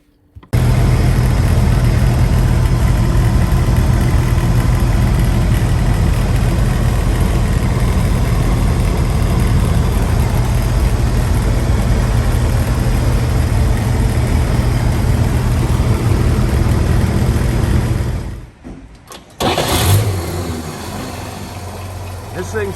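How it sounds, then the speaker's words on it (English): A stock 1948 Chevy three-window pickup with a 216 engine, converted to 12 volts, cruises on a freeway with a constant loud low engine drone and road rumble that drops away briefly near the end before resuming. "1948 Chevy three-window pickup. It's all stock and it's just a great running, driving truck."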